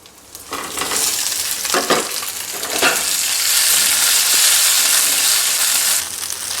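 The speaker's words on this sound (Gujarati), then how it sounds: "અહીંયા વઘાર સરસ કકડી ગયો છે તો સ્ટીમ કરેલા બોલ્સ ઉમેરી દેશું" Steamed vegetable balls are tossed into a hot sesame and curry-leaf tempering, giving a loud, steady sizzle and hiss with a few stirring scrapes in the pan.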